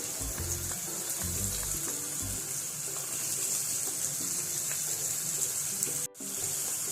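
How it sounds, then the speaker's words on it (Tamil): Whole nutmeg, cinnamon and cloves tempering in hot oil in a kadai give a steady, close sizzle with bursts of crackle, running continuously before a brief drop near the end. "கடாய் ஹீட்டானதும் எண்ணெய் விட்டு ஜாதிக்காய், பட்டை, கிராம்பு இதை போட்டு தாளிச்சிக்கலாம்"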